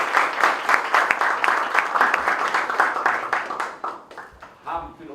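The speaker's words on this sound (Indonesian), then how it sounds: "Tepuk tangan." A group claps hands steadily for a few seconds on a film set, the applause fading out as voices murmur.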